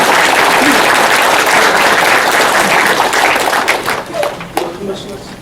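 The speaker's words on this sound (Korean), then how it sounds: "박수를 한번 부탁드립니다." A crowd applauds warmly for a newly introduced agricultural agency spokesperson at a city mayor's year-end address, a dense, sustained clatter of many hands that thins out toward the end.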